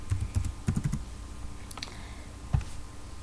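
Computer keyboard typing while entering a rule in an Excel spreadsheet: a quick burst of close, crisp key clicks, a short pause, then a few scattered single taps.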